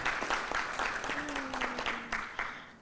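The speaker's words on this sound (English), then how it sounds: "you can clap for that as well" An audience claps at a welcome event in a Barbados hotel, a brief spatter of applause that thins out over a few seconds, with a faint voice underneath.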